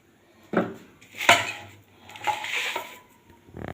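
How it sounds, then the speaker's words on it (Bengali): A wok is set onto a gas stove and oil added, heard as a few close metallic clanks and scrapes of cookware separated by brief pauses, with no talk. "এবার দেখুন এখানে একটা কড়াই বসিয়েছি কড়াইতে পরিমাণ মতো তেল দিয়ে দেবো"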